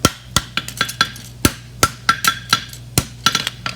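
Sharp, ringing hammer blows on an anvil as a deep-seated bar shoe is worked, roughly a dozen irregular close-up strikes over a steady low workshop hum, no talking.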